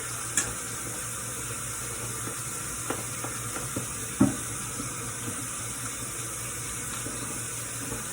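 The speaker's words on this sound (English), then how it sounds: "let me wash my hands with some soap" Hands being washed with soap under a running kitchen tap, with a steady close hiss of water and a few small splashes and clunks in a quiet room, no talk.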